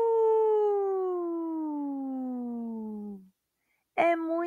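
A storyteller's voice imitates a wolf howl in a children's story: one long, smooth, slowly falling howl lasting about three seconds. A short pause follows, then a brief burst of other vocal sound.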